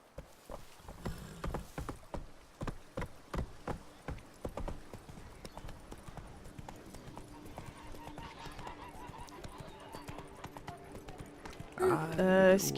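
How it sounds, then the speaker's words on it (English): Roach, the horse from Witcher 3: Blood and Wine, clip-clops in a quick rhythmic gait, the hoofbeats strong at first and then fading into a softer patter, with a brief burst of game music near the end. "But I need my trusty horse."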